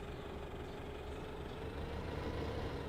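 A tractor engine idles in Farming Simulator 15 as a steady low, even rumble that stays quiet and unchanging throughout, with no voices.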